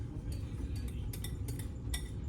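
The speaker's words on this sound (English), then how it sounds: "I'm gonna move this fork out of the way." A metal fork moved on a kitchen counter during baking, giving a few light clinks and taps over a steady low background hum, close and brief.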